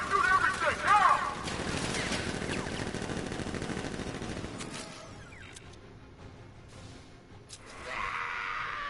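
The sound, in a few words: gunfire from guards in Batman: Arkham Knight video game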